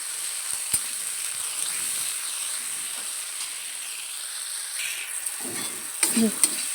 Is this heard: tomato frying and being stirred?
yes